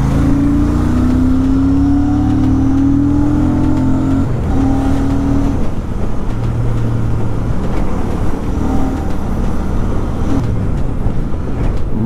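Royal Enfield Super Meteor 650 motorcycle engine running and revving on the road during a ride, a steady loud low rumble with rising and falling throttle tones throughout, no voices.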